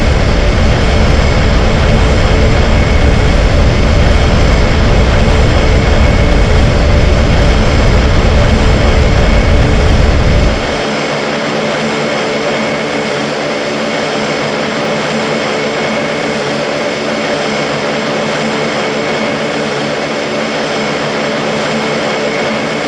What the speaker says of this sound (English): Full throttle. Ding, ding. Passenger, we are about to take off, heading towards New York.